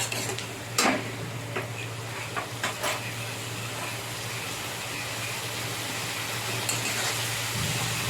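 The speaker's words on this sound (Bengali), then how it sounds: "দিয়ে ভালো করে মিশিয়ে নিয়ে কষে নিচ্ছি" Katla fish roe curry with ground spices is stirred and fried in a pan. A few sharp scrapes and clinks come in the first three seconds, then a steady low sizzle and hum continue alone.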